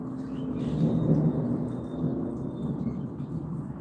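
Thunder rolls in a long, low, continuous rumble during a Kansas thunderstorm, with faint rain hiss beneath it and no voices.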